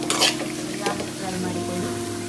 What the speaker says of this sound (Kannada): ತೆಂಗಿನಕಾಯಿ ಮತ್ತು ಈರುಳ್ಳಿ ಹಾಕಿ ಫ್ರೈ ಮಾಡಬೇಕು